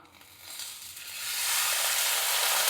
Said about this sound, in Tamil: இப்போ இதில் புளி சேர்த்துடலாம். புளி சேர்த்துட்டு நல்லா வதக்கிக்கலாம்.